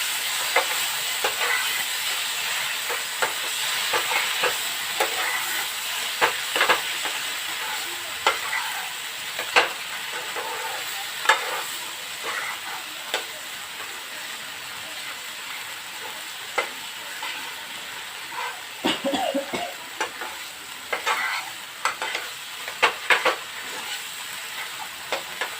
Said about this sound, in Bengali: মশলার পেস্টটাকে ধুয়ে একটু জল দিয়ে দিচ্ছি যেন মশলাটা লেগে না যায়